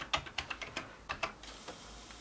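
A serviced Commodore 1541-II floppy disk drive loads with a quick, faint run of light mechanical clicks and ticks, irregular and close, with no talk over it.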